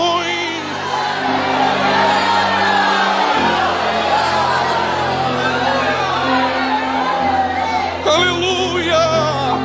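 A church congregation shouts and whoops in praise during a fervent service, loud overlapping voices and cheers forming a dense crowd roar with a sustained drone beneath and a burst of higher shouts near the end.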